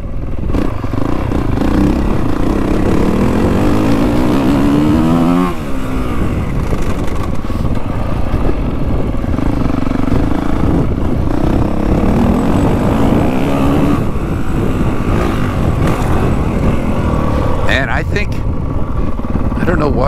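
Honda CRF450WE dirt bike engine revving and pulling hard while riding, a loud continuous roar with rising and falling pitch sweeps and a brief throttle chop midway, with wind buffeting and speech-like sound over it.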